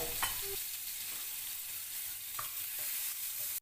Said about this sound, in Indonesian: Ini lanjut kita goreng bawang merah yang untuk taburannya di finishnya nanti ya.